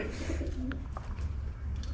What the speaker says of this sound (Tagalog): Ayan mga ibon niya, Warbuck